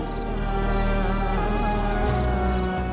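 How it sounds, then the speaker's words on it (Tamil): Rain falls steadily outdoors, an even hiss of drops sustained throughout without a break. "மழை பெய்யுது"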